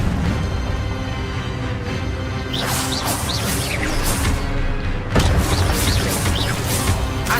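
Hogwarts Legacy on PlayStation 5 with a fire spell cast in combat, rapid whooshing flares and a booming burst over a constant bed of game ambience and music, loud and close.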